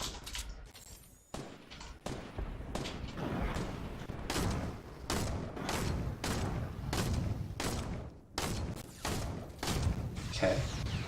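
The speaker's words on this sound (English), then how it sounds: "Oh, they're shooting grenades." Repeated grenade launcher blasts in a Fortnite 50v50 match, a series of heavy thumping booms roughly every second, fairly loud, with faint game noise between them.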